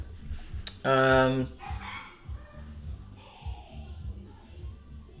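A dog barks close by, one loud burst of barking followed by softer whimpering and yipping, over a steady background of music.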